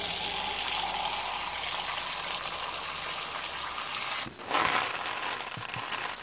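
Water poured into a container for guava cuttings, a steady splashing stream that briefly falls off and then resumes, heard close with no talking.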